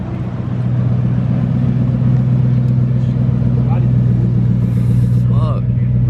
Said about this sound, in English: We got a Bugatti Chiron pulling up.